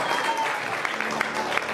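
Wedding guests clap as the couple cuts the cake, a short burst of dense applause in a reception hall with a few sharper individual claps standing out.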